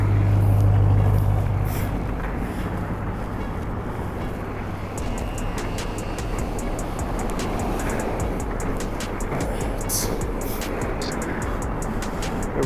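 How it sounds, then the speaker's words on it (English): A car passes on a residential street, a broad whooshing roar rising and then fading, with faint ticking and background noise and no voices. "Wait for this car, we're gonna go around."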